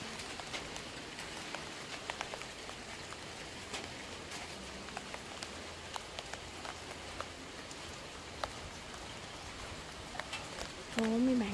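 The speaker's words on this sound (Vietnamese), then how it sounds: "Đang trời mưa nữa đó mấy bạn." Steady afternoon rain pattering over a flower garden behind a house in the Mekong Delta countryside, a soft continuous hiss with scattered drops, and a voice briefly speaks near the end.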